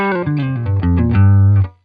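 Electric guitar played through a NUX unit into a Steel Singer amp model with heavy gain and a compressor, a short descending phrase of distorted notes that ends on a sustained low note, loud and close with no talk.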